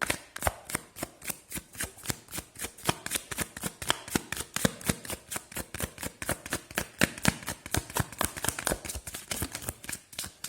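A deck of tarot cards is shuffled in a rapid, even run of crisp riffling slaps close to the listener, continuing steadily for about ten seconds with no one talking.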